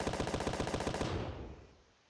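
A 50mm turret in the Space Engineers game fires a rapid, evenly spaced burst of loud, close shots for about a second, then the echo trails off and fades.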